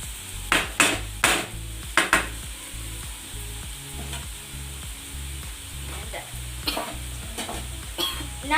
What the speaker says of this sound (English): You can see that it's frying well